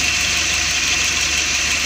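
A Suzuki Espass car engine idles on LPG fuel, a steady, close mid-pitched hum with faint knocking under a constant hiss, unbroken and with no voices.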